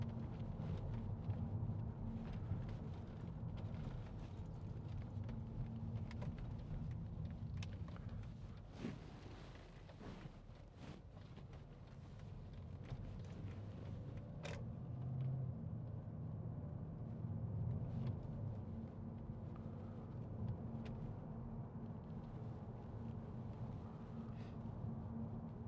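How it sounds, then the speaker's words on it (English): Low steady engine rumble of a 2010 Mercedes-Benz E500 V8 Sport Cabriolet with the roof down, dense and continuous under heavy wind buffeting, with no clear rise and fall of revs across the run. "I just want to put the roof down and boot this and listen to the engine."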